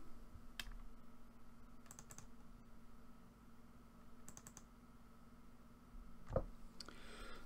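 Quiet, close keyboard and mouse clicks while editing photos in Lightroom: a few sharp double clicks spaced apart with a shift key press, over a low steady computer hum.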